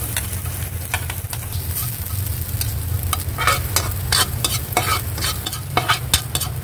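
Minced garlic frying in hot oil in a pan for stir-fried vegetables: a steady close sizzle with a low rumble underneath and frequent sharp scrapes and clinks of a utensil stirring, no voices.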